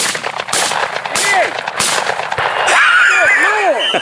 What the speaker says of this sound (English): You didn't lead him enough. You're shooting behind him.